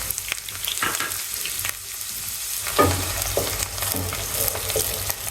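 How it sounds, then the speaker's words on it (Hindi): Onion dropped into hot oil in a pan for chicken achar gosht, crackling and sizzling steadily with stirring scrapes and a louder burst partway through, close and without speech. "इसमें मैंने प्याज डाल दिया, ऑयल गर्म हो गया था मेरा"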